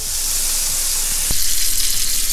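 Crispy bacon frying in a pan, a steady, loud sizzling hiss close up, with a brief knock partway through and a slight rise in the crackle afterward.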